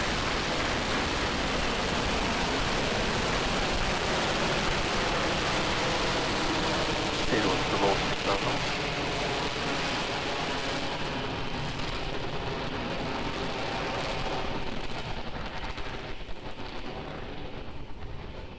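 Falcon 9 rocket carrying a Crew Dragon capsule climbing away from pad 39A, a continuous loud broadband roar with heavy rumble that stays dense and steady, slightly thinning near the end.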